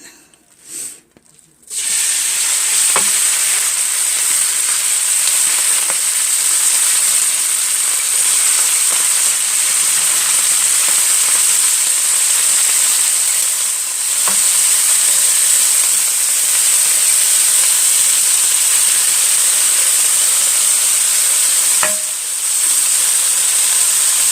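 Meat sizzling in a frying pan for homemade spaghetti meat sauce, a loud, steady high hiss that starts abruptly and holds throughout with faint occasional clicks and pops.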